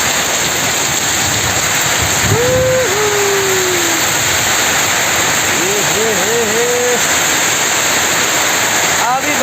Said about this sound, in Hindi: अभी बारिश देना शुरू हो गया रे।